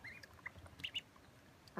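Two-week-old Blue Runner ducklings give faint, high, brief peeps and quacks in scattered bursts while pecking at peas, heard softly against a quiet background.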